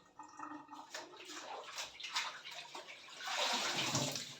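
Freshly cut garden mint is washed under running water, close splashing and trickling that swells into a fuller steady pour near the end.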